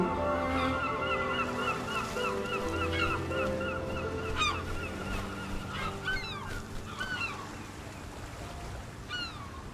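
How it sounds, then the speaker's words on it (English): Seabird calls in the video game RiME, gull-like cries and honks repeating over a steady wash of ambient music and surf-like background, moderately loud and continuous, with no talking. "Got our seagulls."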